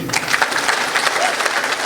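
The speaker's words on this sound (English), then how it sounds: "Round of applause, brother Khabib" A brief burst of loud, close audience applause in an interview setting with Khabib Nurmagomedov present, dense rapid clapping from many hands, steady throughout.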